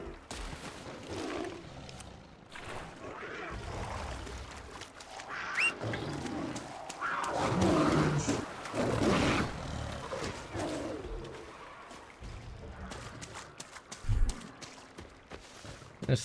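Tiger roaring in the video game Far Cry Primal, a deep growling roar amid loud, busy game noise with thuds and bursts, swelling mid-clip and again near the end.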